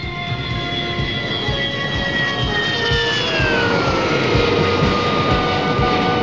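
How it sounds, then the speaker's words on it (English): An A-5 jet aircraft approaches a runway to land at a Pakistan Air Force base, making a loud, steady roar with high whining tones that slowly glide downward, with no voices. "The A-5 aircraft is now approaching the runway for landing."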